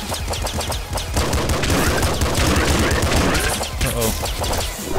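Rapid SMG gunfire from the top-down shooter Nuclear Throne, a dense, continuous stream of sharp shots with explosive booms mixed in, loud and close throughout.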